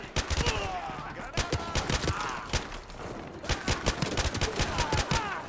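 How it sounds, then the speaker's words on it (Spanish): Rapid gunfire in short bursts in the video game Call of Duty Modern Warfare 2, loud sharp cracks in quick clusters with brief pauses, and a voice faintly under the shots. "Tengo que disparar en ráfagas cortas porque se acaban las balas en nada"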